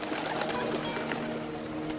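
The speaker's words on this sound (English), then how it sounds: "Birds do make noise if there's enemies nearby." Birds coo and chirp in short, repeated calls in the Shadow Tactics video game, sounding fairly close, over a steady low background hum.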